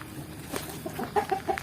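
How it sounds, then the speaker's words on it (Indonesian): Free-range village chickens (ayam kampung) cluck in short, repeated calls close by in an oil palm plantation, faint and soft against a quiet outdoor background. "memelihara unggas dari jenis ayam kampung ini"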